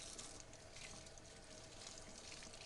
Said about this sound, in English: I just run them under cold water.